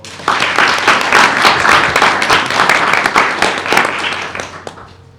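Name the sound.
applause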